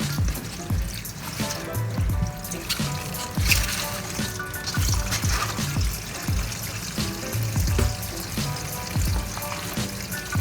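Water runs steadily from a tap, a continuous splashing trickle with some clinks and clatter from dishes nearby.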